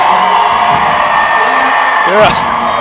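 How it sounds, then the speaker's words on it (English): A loud indoor crowd at a high school boys' state basketball quarterfinal whoops and yells, with rising and falling shouts layered over a steady roar of voices. "They're cheering back and forth at each other"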